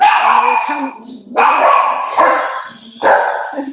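Several dogs at home bark at a cat trying to get in, loud and close, in three or four separate bursts of sharp barks and yips, with a person talking over and between them.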